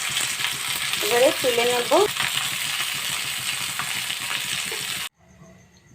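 Small charapona fish fry in hot oil for a spicy potato fish curry, giving a steady close crackling sizzle with some stirring clatter. The sizzle cuts off abruptly near the end, and a voice speaks briefly over it.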